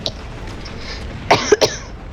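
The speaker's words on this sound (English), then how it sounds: "I'm sorry for coughing in your ears, by the way" A person coughs while playing Resident Evil 6, two or three sharp, close bursts in quick succession after a stretch of quiet room tone, with no talk.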